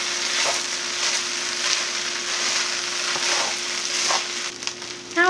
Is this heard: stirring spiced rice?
yes